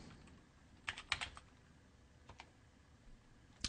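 Quiet computer keyboard typing, a few soft clustered keystroke clicks over faint room hiss.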